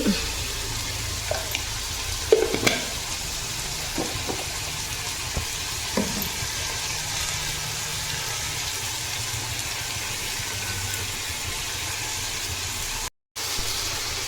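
Masala seasoned with turmeric and a pinch of asafoetida sautés in a pan for a Sunday mutton biryani, giving a steady broadband sizzle with a few clinks and scrapes near the start. A brief dropout near the end.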